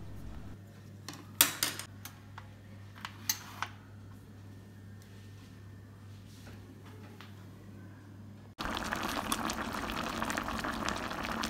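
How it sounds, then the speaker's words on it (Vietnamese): A fish hotpot of red tilapia braised with pickled mustard greens bubbles on the boil in an electric pot, a soft simmering hiss with a few clinks, then the bubbling grows louder and busier. "Bây giờ cái nồi cá của mình nó sôi rồi"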